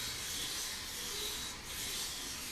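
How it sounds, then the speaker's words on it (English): Steady abrasive sanding strips the painted top layer from a horse's hoof, a continuous bright rasping rub that holds close and even for the whole stretch with only a brief dip partway through. "all you're doing right there is sanding the top layer off just like you get your nails done"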